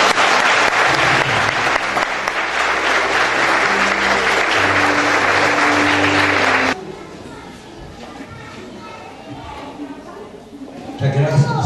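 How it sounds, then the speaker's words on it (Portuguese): A church congregation claps loudly and steadily for about seven seconds at the close of a worship service, then the applause cuts off into quieter room sound with some murmuring and a voice near the end. "A igreja pode aplaudir o Senhor."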